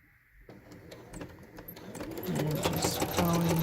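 A domestic sewing machine stitches through a thick quilt with a steady mechanical whirr. The whirr starts after a short pause, speeds up and grows louder, and runs alone with no talking.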